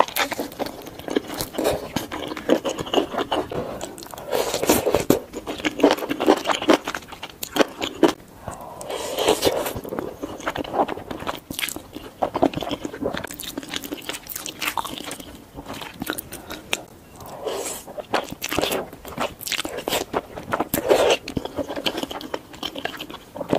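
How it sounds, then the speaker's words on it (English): Close, crisp crunching, biting and wet chewing from someone eating spicy samyang noodles with king crab, mini rice cakes, cheese and enoki mushrooms, with repeated bites in an uneven rhythm and no talking. "She's eating spicy samyang noodles with king crab, mini rice cakes, cheese, and enoki mushrooms."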